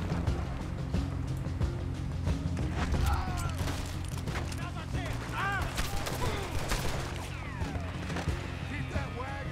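Gunfire rings out in a Red Dead Redemption 2 gunfight. Sharp shots crack over a steady, dense background of game ambience and rumbling movement, with scattered impacts throughout.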